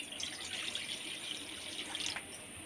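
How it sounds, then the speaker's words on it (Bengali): Water is poured into a kadai on the stove while cooking rohu fish paturi, a steady close splashing trickle lasting a few seconds, with no talk. "এবার পরিমাণ মতো জল দিয়ে দেব।"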